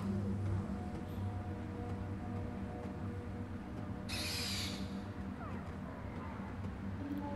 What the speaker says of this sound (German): Ich will den Adler rufen.